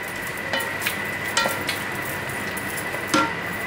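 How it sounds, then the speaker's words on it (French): Coconut milk from a carton is stirred in a cooking pot with a spoon. Soft scraping and swishing come with a few light clinks against the pot, and a faint sizzle runs steadily underneath. "une brique de lait de coco, pareil, je vais remuer"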